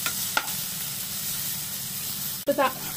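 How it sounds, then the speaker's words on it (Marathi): Onion and tomato sauté in a pan with curry leaves, giving a steady low sizzle and stirring hiss, with a couple of brief scraping clatters of the spoon against the pan. "टोमॅटो पण चांगला परतवून घेते"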